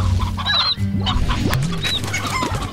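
Chickens cluck repeatedly in the Slime Rancher video game, several short squawks and clucks overlapping against a steady tonal game background, close and fairly loud.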